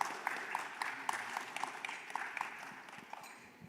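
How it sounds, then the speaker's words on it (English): Audience applause for the panelists at a large banking and finance event, faint distant clapping from a crowd with a few sharper individual claps rising above the steady patter. "A big round of applause for all the panelists."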